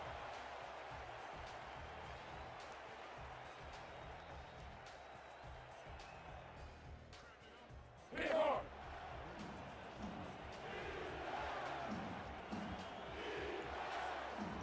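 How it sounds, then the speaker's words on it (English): A stadium crowd at a simulated football game keeps up a steady distant roar, swelling briefly in a loud burst midway and rising again toward the end, with a faint voice now and then over it. "Crowd is still cheering on defense."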